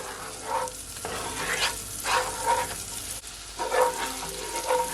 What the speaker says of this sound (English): I'm gonna add my onion. I'm just gonna allow it to saute for at least another 15 to 20 seconds